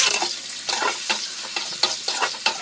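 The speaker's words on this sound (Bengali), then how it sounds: "এবার আমি ক্যাপসিকাম আর পেঁয়াজ যে কেটে রেখেছিলাম ওইটা আমি ভেজে নেব" Chopped capsicum and onions fry in oil in a wok while being stirred, giving a steady sizzle broken by about ten rhythmic scraping strokes, close and fairly loud, with no talk.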